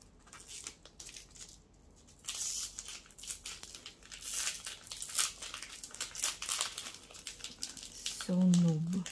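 Dragon Ball card pack wrappers are torn open and crinkled by hand, with bursts of ripping and crackling foil plastic close by, intermittent and uneven, while a voice speaks briefly near the end.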